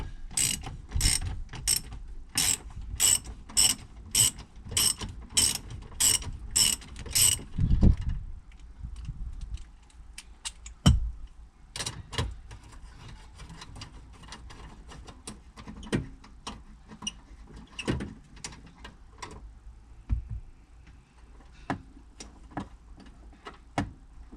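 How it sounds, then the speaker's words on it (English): A ratchet wrench loosening a 10mm bolt on the battery bracket of a 2013 Toyota Estima Hybrid AHR20, starting with a fast, even run of loud close clicks, then scattered lighter ticks and knocks with no talk. "first thing I need to do is take off the bracket, 10mm bolt."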